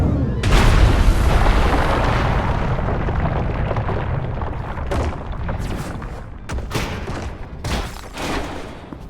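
A big explosion in the video game Destroy All Humans! 2 – Reprobed, a loud booming blast followed by a long rumbling wash of debris with several sharp pops and crackles.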